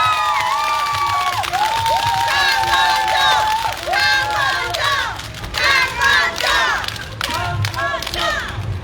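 A crowd at an outdoor presidential campaign rally in Jeju cheers and shouts loudly and continuously, with excited voices rising and overlapping as a speaker is welcomed on stage.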